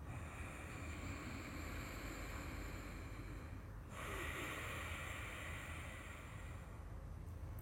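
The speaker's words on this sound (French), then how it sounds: "On essaye 2-3 fois, juste par le nez, inspiration et expiration." Steady Ujjayi yoga breathing through the nose, a continuous hissing airflow with a brief change in tone midway as inhalation turns to exhalation, close and alone without talk.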